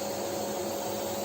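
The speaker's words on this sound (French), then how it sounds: "pour que l'aspirateur se mette automatiquement en fonction puisqu'il est branché sur la prise automatique" A workshop vacuum cleaner switches on automatically through an auto-start power outlet tied to a Festool TS 55 cordless track saw, giving a steady, loud, continuous whine with no talk.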